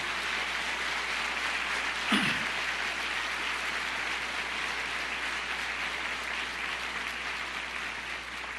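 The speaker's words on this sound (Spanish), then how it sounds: "Yo creo que merece un aplauso, ¿no?" Applause from a church congregation spreads across the whole span as dense, steady clapping at an even level, with a brief louder voice or shout near the start.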